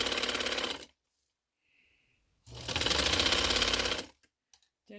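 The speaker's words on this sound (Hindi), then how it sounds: "इसके साथ साथ सिलाई लगाएंगे हम।" A sewing machine stitches fabric for a neckline and sleeve design in two bursts of rapid, even mechanical chattering, close and loud, separated by a silent pause, then a few faint clicks, with no talking.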